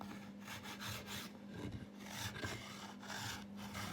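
A sanding stick rasps back and forth across a guitar neck volute in a woodshop, a steady close scratchy rubbing with rhythmic strokes and no talk.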